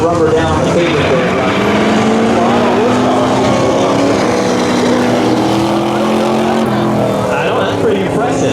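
Street drag racing at Car Wars: a loud, sustained engine roar dominates, revving and droning steadily with some pitch shifts as the car struggles for traction, while announcers talk over it.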